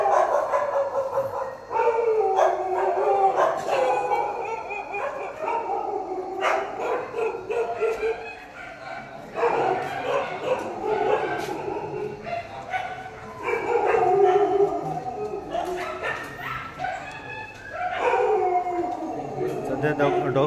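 Police dog squad dogs bark, yip and howl in repeated bursts, fairly near, while someone speaks over much of it.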